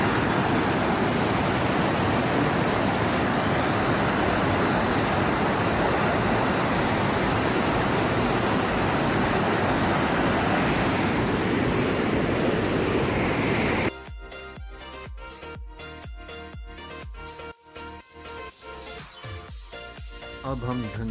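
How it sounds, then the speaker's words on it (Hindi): Dhancho Falls, a waterfall on the Manimahesh Kailash trek in the Himalayas, roars as a dense, steady rush of water close by, then cuts abruptly to other sound about two-thirds through. "अब हम ढंचो फॉल्स पहुंच रहे थे, जो कि काफ़ी खूबसूरत झरना है।"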